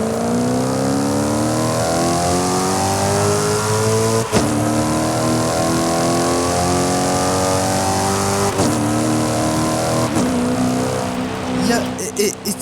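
A V8 car engine in Forza Horizon 5 revs repeatedly, pitch climbing through gears with brief breaks at each shift, loud and close with a synthetic game-like quality.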